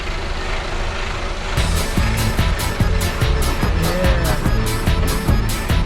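A Mercedes Actros truck pulling double trailers drives straight ahead with a loud, steady engine and road rumble, overlaid by a rhythmic pulsing pattern through most of the stretch.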